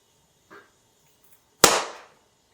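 A single sharp pop as a jar lid is pressed down in the center with a spoon, loud and close, preceded a second earlier by a faint small click, in an otherwise quiet kitchen.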